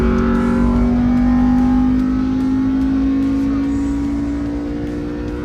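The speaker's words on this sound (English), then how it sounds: "There's a lot of RPMs, Al." A Honda CRX engine revs hard at high RPM from inside the car, a loud steady drone with a slowly rising pitch that eases off slightly toward the end, with no talk over it.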